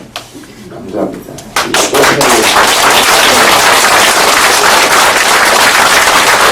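A crowd breaks into loud, sustained applause for the president at a political candidacy speech, swelling after a brief spoken line and continuing as a dense, steady roar of clapping.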